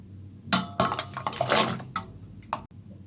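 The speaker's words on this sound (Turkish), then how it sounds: "Yarım litre kaynar suyumuzun içine yer elmalarımızı ve patateslerimizi ekliyoruz." Jerusalem artichokes and potato pieces tumble into a pot of boiling water, a cluster of close clattering splashes and knocks against the metal, with a final sharp clink near the end.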